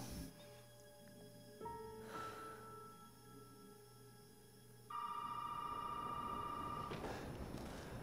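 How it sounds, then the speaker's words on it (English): In Resident Evil 7, a telephone starts ringing partway through with a steady electronic trill that holds for a couple of seconds over low game ambience, then cuts off, after earlier tones and rustling. "I don't appreciate the random phone call."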